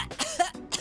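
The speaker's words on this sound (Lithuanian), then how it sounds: "Paskui kosėjau 3 dienas." A character in an animated children's series coughs in a quick, close burst of three or four short, raspy coughs, with no other sound around them.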